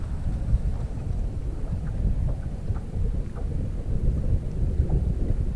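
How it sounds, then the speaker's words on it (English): Steady wind gusting across Kerr Lake, rumbling in the microphone with low broadband roar throughout while a kayak angler fishes for catfish; no talking. "before this wind really makes me work to make it back to the vehicle"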